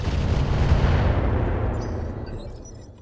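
A heavy burst of mech weapons fire in a MechWarrior game, a loud, dense barrage with no talk that rumbles and then trails away over a few seconds.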